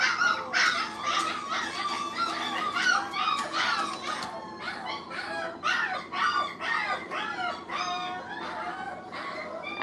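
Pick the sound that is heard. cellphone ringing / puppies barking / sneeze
puppies barking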